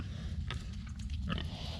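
Pasture-raised pigs out in the open or woods grunt and oink several times in a row, close and fairly loud, over a steady low rumble of outdoor background noise.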